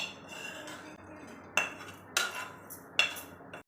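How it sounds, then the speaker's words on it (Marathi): Roasted coconut scooped from a pan onto a plate with a spoon: three sharp metallic clinks and scrapes stand out clearly over a quiet background hiss, close by and with no talking. "खोबरं चांगलं भाजून झालं की त्याला एका ताटामध्ये काढून घेऊ"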